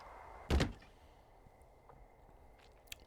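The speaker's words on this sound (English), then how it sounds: "Open the door." A door in Firewatch swings open with a single heavy wooden thunk and slam near the start, followed by quiet ambience and a faint tap later.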